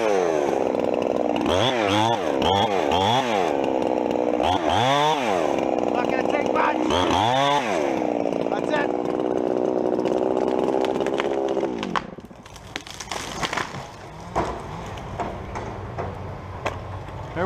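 A chainsaw cuts into a balsam fir in a snowy woodland. A loud, close, steady whine rises and dips as the bar bites, then the saw drops to a rougher idle with scattered clatter.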